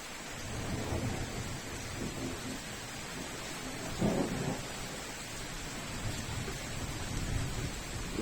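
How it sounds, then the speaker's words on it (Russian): Steady rain falls during a thunderstorm while several low rumbles of thunder roll through, one stronger crack of thunder standing out midway. "Ох, и зарядила гроза."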